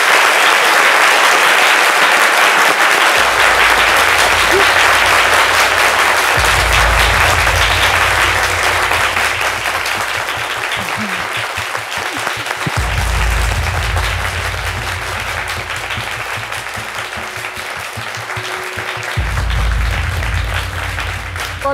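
A TV studio audience applauds loudly and without a break for over twenty seconds, with low rhythmic thumps running underneath and no speech over it.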